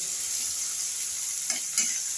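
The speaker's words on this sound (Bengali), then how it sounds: "একটু ভালো করে নেড়ে নিচ্ছি আমি" A steady sizzle of onion and garlic frying in a pan, with a couple of scraping stirs near the end and no voices.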